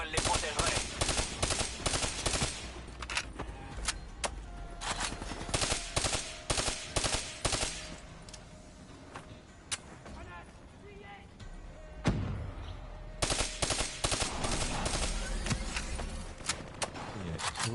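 Gunfire in the Call of Duty: Black Ops campaign: loud, rapid automatic bursts repeat through most of the stretch, with a lull in the middle before another heavy volley, while voices talk over it.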